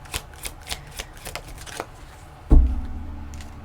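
Tarot cards are shuffled in a close series of soft, riffling flicks, followed by a louder thump as the deck is gathered and knocked together.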